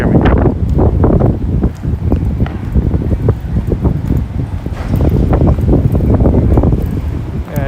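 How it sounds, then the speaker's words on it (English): Heavy wind on a morning walk in Futako Tamagawa, Tokyo, buffets the microphone, producing loud, continuous low rumbling and gusty thumps throughout. "And it's super windy here"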